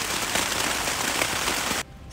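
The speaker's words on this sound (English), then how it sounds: "we've got hail" Hail pelting a hammock tarp at night on the Appalachian Trail, a dense, steady patter of many hard little hits close overhead that cuts off abruptly near the end.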